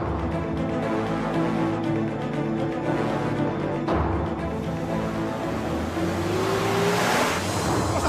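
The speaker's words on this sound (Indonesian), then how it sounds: "Itu mobil Pak Suta kan?" A car engine hums steadily nearby for several seconds, with a brief rise in pitch as it revs and moves past, loud and alone without voices.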